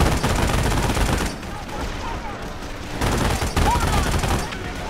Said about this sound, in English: I gotta take out that machine gun, else I'm gonna be really screwed.